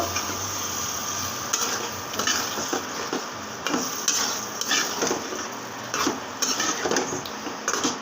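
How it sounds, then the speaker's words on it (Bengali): Small local poa fish sauté in a pan, with a low sizzle under intermittent clinks and scrapes of a utensil against the metal. "ছোট পোয়া দেশি কুয়াগুলো আমি সব দেশি পোয়া কষিয়ে নেব"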